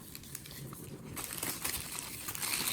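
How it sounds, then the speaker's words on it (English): Frozen chicken goes into a plastic zip-top bag in the kitchen, with close crinkling and rustling of plastic that grows louder partway through, and no talking. "The first step is to place the frozen chicken into a sealed zip-top bag."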